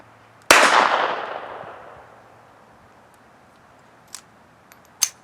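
One sharp shot rings out from a Beretta 21A Bobcat pistol whose slide fails to cycle fully, a loud crack with a decaying ring, then two small metallic clicks a few seconds later.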